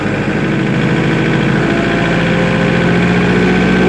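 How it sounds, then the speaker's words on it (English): Kubota L4701 tractor engine running steadily as the loader is raised, a loud, close diesel drone with constant vibration and a slight rise in pitch, heard alone without talk. "And now I'm going to show you the beauty of Kubota loaders. Let's run it up just about here."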